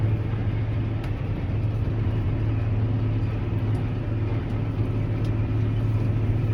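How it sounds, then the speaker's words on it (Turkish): Steady low engine drone from a tractor turning slowly at the end of a field row, a constant rumbling hum heard from within the cab with no other sounds. "Şimdi dönüyor traktör."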